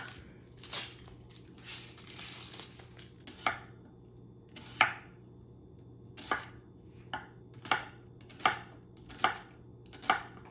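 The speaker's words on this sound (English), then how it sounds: "I mastered cutting an onion without crying" A knife chops through an onion on a cutting board, a dozen or so crisp, separate cuts spaced irregularly, close and fairly quiet over a low background hum.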